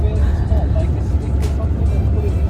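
Steady low rumble of a bus interior on the road during an early-morning ride to a military drill weekend, continuous engine and road noise with faint voices in the background.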